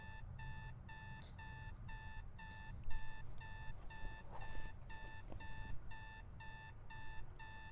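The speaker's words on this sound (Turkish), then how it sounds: "Oğlum neden bu kadar yüksekti lan bu alarm?" Loud electronic alarm clock in a horror video game, a relentless train of evenly spaced shrill beeps repeating about twice per second, with faint background game noise underneath.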